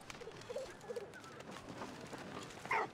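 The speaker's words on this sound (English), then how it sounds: "Pigeons all over that piece of bread." Pigeons cooing around a piece of bread in the video game Valiant Hearts, a few soft low coos near the start followed by a brief louder flutter or call near the end over a quiet game ambience.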